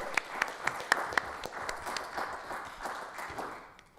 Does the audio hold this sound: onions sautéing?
no